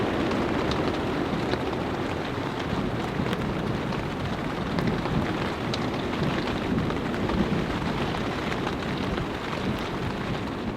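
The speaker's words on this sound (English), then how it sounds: "I've been sitting inside of this tent because it's raining outside" Heavy rain drums steadily on a large Mylar-lined tent during a severe thunderstorm, a dense, unbroken hiss with low rumbling underneath, heard from inside with no voices.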